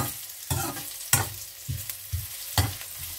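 Rice being stir-fried for Thai chicken rice, a soft sizzle broken by about five rhythmic scraping stirs of a spatula against the pan, close and without talk.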